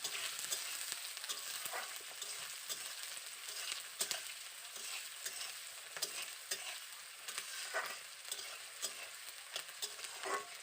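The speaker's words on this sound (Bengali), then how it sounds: "পেঁয়াজটাকে তেলের মধ্যে দিয়ে ভালো করে প্রথমে পেঁয়াজটাকে ভেজে নিতে হবে" Chopped onions fry in hot oil for a fish curry, a soft, steady sizzle with faint scraping stirs throughout and no talking.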